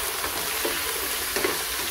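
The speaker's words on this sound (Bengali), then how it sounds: "তো এগুলোকে আমি 1 মিনিটের জন্য ফ্রাই করে দিব" Shrimp fried rice ingredients frying in a pan, with a steady, dense sizzle and crackle holding at an even level throughout, broken by faint scrapes of stirring.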